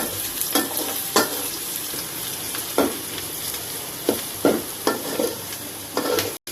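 Beef is added to frying onions in a home kitchen pot for a Bangladeshi Qurbani beef curry, giving a steady close sizzle broken by several sharp stirring scrapes and clanks.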